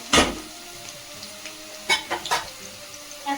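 Onions frying in a pan for a Bengali rohu fish kalia: a quiet sizzle with a few short, sharp bursts of stirring or spatula scrapes near the start and middle.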